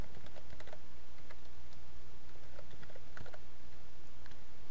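Keys clatter on a computer keyboard as a password is typed, a quick, irregular run of close, crisp clicks with no one speaking.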